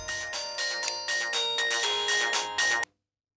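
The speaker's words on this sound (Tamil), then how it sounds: "அம்மா, உங்களுக்கு ஃபோன்." A telephone rings in a Tamil television drama scene, a steady electronic ringtone that repeats for about three seconds, loud and close, then stops abruptly with no voices over it.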